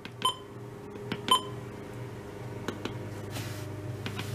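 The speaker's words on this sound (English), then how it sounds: "Button beeps." A Midland WR-400 weather radio gives short electronic button beeps, two clear close tones early on followed by fainter clicks against a low steady hum.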